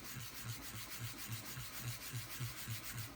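A Street Hawk light bar is hand-sanded with light finger pressure, giving a soft, even back-and-forth scratching in a steady rhythm of about four strokes a second, close and quiet.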